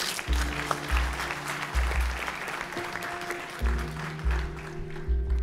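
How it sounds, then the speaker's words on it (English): Audience applause after a speech by President Museveni, a brief ripple of clapping under a loud rhythmic low thumping beat that dominates the room. "Would everybody like to join me in another round of applause?"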